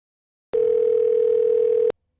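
A phone's steady single-pitch tone after a call is cut, sounding loud and clean for about a second and a half, starting and stopping abruptly, with no voices.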